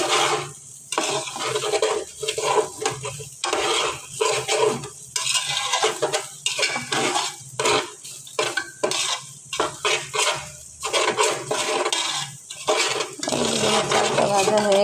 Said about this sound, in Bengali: চালটা ভাজা হয়ে গেছে